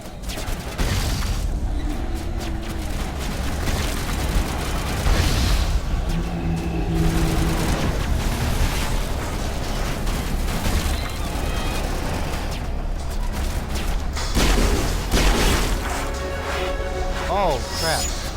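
Gas grenades burst amid dense combat noise in Mass Effect Legendary Edition, a few heavy booms rising out of a constant wash of game sound while voices talk throughout.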